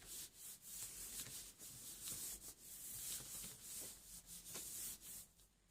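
Steady, soft scratchy rubbing as excess paint is worked off a stencil laid on a gel plate, continuous gritty strokes at a low, close level with no speech.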